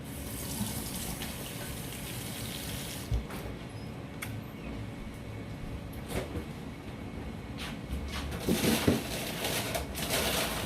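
Water runs and splashes steadily into a container of boiled eggs to shock them, with a brief clink or two of ice near the end; no talking.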